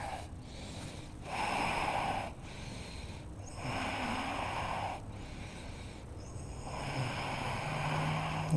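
Deep breathing during a strong yoga flow class: slow, audible breaths in and out through the nose, roughly four long airy swells with quiet gaps, close and fairly soft, with no talking.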